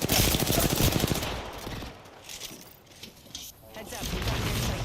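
Rapid automatic gunfire in the battle royale video game Apex Legends, loud bursts at the start that fade into quieter effects before firing picks up again, with a voice talking over it.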